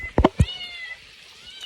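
A pet cat meows indoors at a home in the Konkan countryside: a few short, close calls near the start, then a softer trailing whine.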